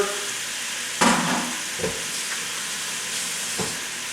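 Raw chicken for etouffee browns in a hot pan under a continuous loud sizzle, with a few louder bursts and scraping stirs breaking through the steady hiss.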